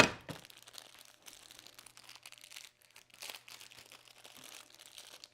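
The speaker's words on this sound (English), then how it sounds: "I apologize for the crinkly paper." Crinkly paper packaging around new charcoal blending tools being handled and torn open, a run of soft, close crackling and rustling bursts, fairly quiet, with no speech.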